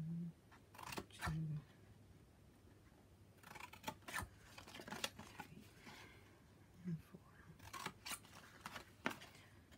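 Paper being cut with scissors along scored lines for a small tea light box, a series of short crisp snips and rustles spread across the clip, fairly close with no voice.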